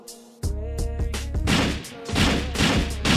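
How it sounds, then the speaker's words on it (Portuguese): Colt rifle gunfire in a competitive first-person shooter game, rapid bursts of loud shots and impacts over several seconds, dense and continuous with brief gaps. "Tiro da Colt todo turno"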